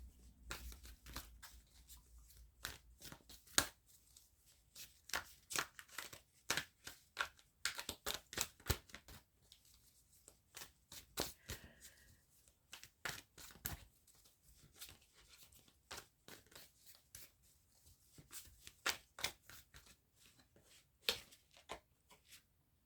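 Wisdom of the Oracle cards by Colette Baron Reid are handled and shuffled, giving faint, scattered papery flicks and clicks in irregular bursts against near silence.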